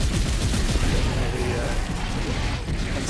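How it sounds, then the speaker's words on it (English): A vengeance launcher in the Space Marine video game fires in a dense, continuous barrage of booming, crackling blasts, loud and sustained throughout. "vengeance launcher"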